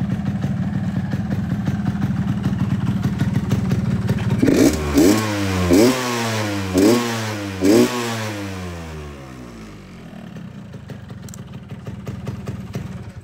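A 2005 Yamaha RX King motorcycle engine idles steadily up close, then revs hard in four sharp bursts whose pitch rises and falls before it settles back to a rough idle.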